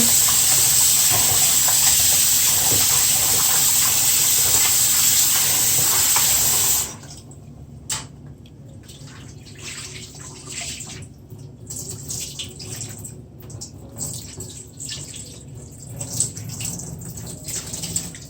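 Steady running tap water gushes loudly for several seconds over goat meat being rinsed, then stops, leaving lighter splashing and dripping with handling noises.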